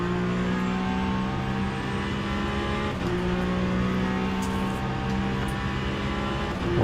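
A GT3 race car engine in a racing video game drones loudly and steadily, holding a sustained high-revving tone with a brief shift dip midway and continuous road noise.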